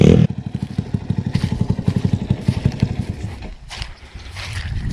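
A mini boat powered by a Honda Titan 150 motorcycle engine on a lake, its single-cylinder motor pulsing in rapid loud putts that rise, then dip as the throttle eases, with water splashing and clatter around.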